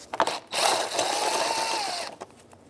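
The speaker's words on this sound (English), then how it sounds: "Last 2 screws are right here, 8 millimeter socket." Power tool with an 8 mm socket spinning out screws from a 2008-13 Mazda 3 fender, a sustained whirring drive run for about a second and a half between brief clicks.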